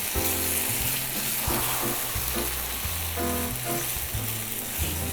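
Liver and chives sizzle and fry in a wok for a Chinese stir-fry, a steady, loud, dense hiss that runs continuously, with repeated thudding tool knocks against the pan throughout.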